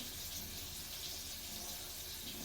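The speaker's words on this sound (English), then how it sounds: "So now would be the time to rinse the hands." Tap water runs steadily as hands are rinsed one at a time, a continuous broadband hiss and splash at close range with no voices over it.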